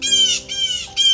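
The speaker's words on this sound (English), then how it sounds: "Blue jays, their cry of warning" Blue jays give harsh, loud warning cries outdoors, two long raspy calls and the start of a third in quick succession, close and clear with no talk.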